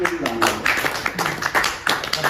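An audience at a Hindi kavi sammelan poetry recital breaks into scattered, uneven clapping in a few bursts, with voices murmuring underneath.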